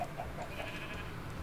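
A sheep bleating in Minecraft gameplay, a faint wavering call over a constant hissy background that carries on through the whole moment.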